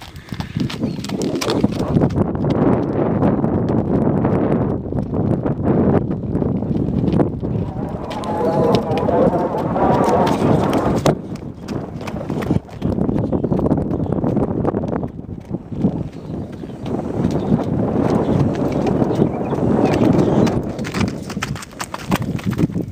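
A young colt moves around a round pen, with continuous close hoof clip-clops on the ground and gusty wind noise across the microphone, some birds faint in the background.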